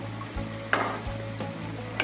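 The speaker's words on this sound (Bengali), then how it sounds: "এবার আমি ভালো করে নেড়ে চেড়ে দেব।" Fish curry with fried spice mix being stirred in a pan, pangas fish with cauliflower and tomato, giving a low simmering sizzle with a few scraping strokes of a spoon across two seconds.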